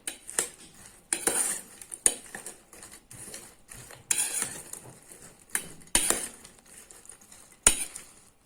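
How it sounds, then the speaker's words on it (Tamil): Crispy fried corn tossed with garam masala, chili powder and salt, stirred in a metal bowl or pan: a run of close, sharp clinks and scrapes of a utensil against metal, coming in uneven bursts with no talking. "சேர்த்துட்டு ஒரு தடவை நல்லா கலந்துக்கோங்க."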